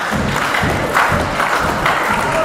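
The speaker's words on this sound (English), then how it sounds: "Firing up the crowd, looking to put Rex Savage away" A crowd at a UK wrestling show cheers and applauds, a dense, loud, continuous roar of voices and clapping with swells, filling the room without any distinct speech.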